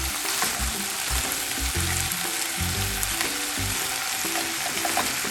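Bulgogi beef fries in a pan with a steady, loud sizzle that runs throughout, while low tonal patterns that sound like music play beneath it.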